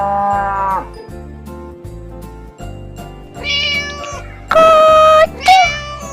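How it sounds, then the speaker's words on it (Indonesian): A cow gives several moos, loud and close, interleaved with meow-like calls over a repeating musical backing beat. "Sapi."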